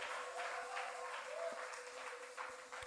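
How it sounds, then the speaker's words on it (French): A church congregation applauds for Jesus Christ during a Holy Communion service, with steady, sustained clapping filling the room at moderate distance, a dense continuous patter without pauses. "put your hand together for Jesus Christ"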